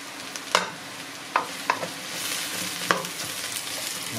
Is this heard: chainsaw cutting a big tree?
no